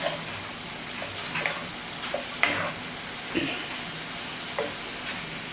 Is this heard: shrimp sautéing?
yes